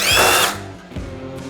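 A Harbor Freight impact driver backs out a screw in bolt removal mode, a loud, high motor whir for half a second that stops abruptly, leaving faint clicks and room noise.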